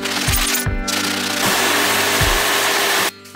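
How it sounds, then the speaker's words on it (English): A power sander works over a model railroad diorama base, giving off a steady, loud whirring hiss with a few dull thumps as it is pressed and shifted. The motor cuts off abruptly near the end. "Now we're gonna do some sanding."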